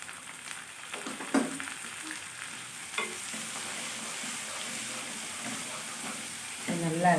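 Finely chopped tomatoes fry with baby potatoes in a pan, a steady sizzle broken by a few stirring scrapes, with a louder burst near the end as more goes in, and faint speech in the background.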